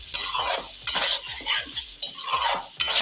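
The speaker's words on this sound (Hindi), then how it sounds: "इसको एक दफ़ा मिक्स करते हैं" Bhindi keema with fresh yogurt stirred in a pan over a low flame, a spoon scraping in repeated strokes about every half second over a soft sizzle, close and steady.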